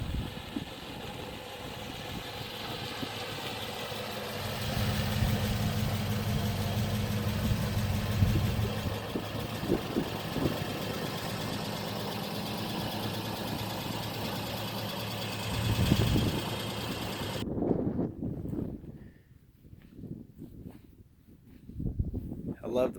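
The engine of a 1961 Studebaker Hawk idles with a steady low rumble and slight knock for most of the stretch, then cuts out near the end, leaving quieter handling noises. Someone talks over the idle.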